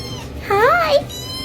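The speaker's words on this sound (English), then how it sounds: "Kitten." A kitten gives one rising-and-falling meow lasting about half a second, close and clear, with quiet room sound before and after.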